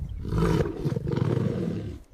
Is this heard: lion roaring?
yes